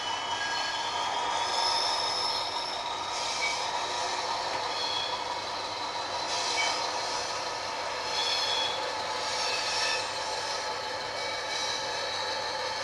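A Bachmann Class 40 model locomotive, number 40142, with DCC sound runs on second-radius track through insulfrog points, giving a continuous diesel-engine rumble with rail clatter and occasional squeals, steady and close, without speech.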